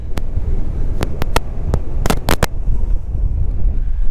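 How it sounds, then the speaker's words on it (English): Strong wind on a Colorado mountain top buffets the microphone in a loud, constant roar, with sharp gust thumps scattered through it and no talk. "So it's a bit windy up here"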